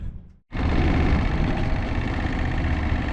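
A repaired sailboat engine catches and settles into a steady, loud idle with an even, rumbling throb that continues to the end after a brief quiet start.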